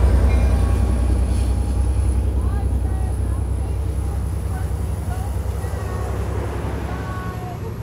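Loud, steady rumble of an Amtrak Capitol Corridor passenger train departing Richmond station, with rhythmic wheel clatter and faint squeals, heard up close.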